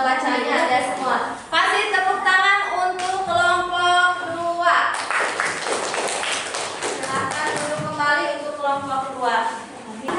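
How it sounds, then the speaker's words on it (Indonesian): Classroom applause for a student group: a burst of clapping from many hands rises in the middle, with voices talking before and after. "Kasih tepuk tangan untuk kelompok 2."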